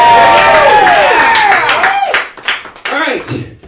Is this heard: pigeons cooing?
no